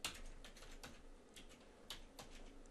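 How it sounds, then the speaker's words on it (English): Quick, light keystrokes on a computer keyboard while entering code, a steady close patter of clicks at a moderate pace with no voices. "You can type them fully, or you can just type part of it like this."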